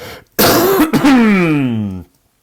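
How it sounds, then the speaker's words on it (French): A sharp cough followed by a long, rough throat clearing that trails into a groaning exhale, close and loud. "attendez, je tousse"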